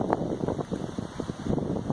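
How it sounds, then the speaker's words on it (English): Strong headwind gusting through a valley after a stormy night, a continuous rushing roar with uneven surges, loud and close. "this headwind is too strong for us to look at getting out of this valley this morning"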